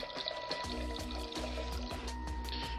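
Red wine sauce boils down rapidly in a pan on high heat, giving quiet, close bubbling and popping with a liquid, pulsing rhythm throughout.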